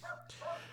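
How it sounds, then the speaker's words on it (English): Dogs yapping and whining indoors in two short close bursts, heard during a brief break in conversation, with a steady low hum running underneath. "Sorry for my dogs."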